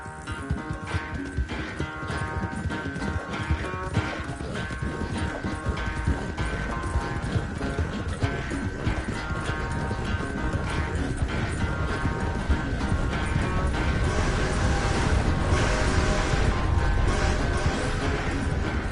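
Steady, rapid clip-clop of horse hooves at a running pace in Red Dead Redemption 2, continuous and loud, with a faint jingling and rattling mechanical undertone.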